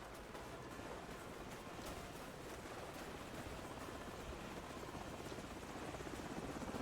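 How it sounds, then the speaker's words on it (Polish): Helicopters in the video game Call of Duty 4: Modern Warfare give a steady, loud rotor drone with a dense rumbling wash that holds unbroken throughout and swells slightly toward the end. "I te śmigłowce wracają teraz."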